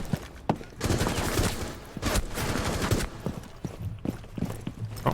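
Single-shot gunfire in the video game Rainbow Six Siege during warm-up headshot practice, a string of sharp close shots and clicks at an uneven pace, with some louder bursts amid clattering.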